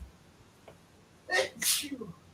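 A person sneezes loudly nearby, a sharp burst with a quick second gasp after it, against a quiet room.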